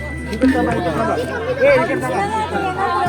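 A crowd of tourists chattering at a busy Mahabaleshwar viewpoint, a dense murmur of many nearby voices that stays steady throughout, with some louder individual voices standing out over it.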